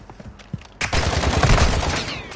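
Dense bursts of video game gunfire break out suddenly after a quiet start and carry on loud and steady to the end.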